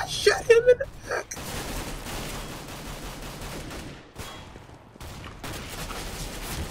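Gunshots ring out in the video game Counter-Strike: Global Offensive, a quick sharp cluster of shots at the start followed by dense, noisy game ambience, with a player's voice talking over it.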